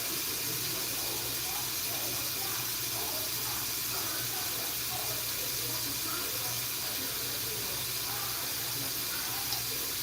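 Water running from a tap into a water bottle through a filter, a steady hissing stream heard close by throughout, with faint low hum behind it.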